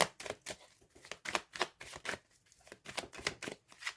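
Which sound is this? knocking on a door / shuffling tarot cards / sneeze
shuffling tarot cards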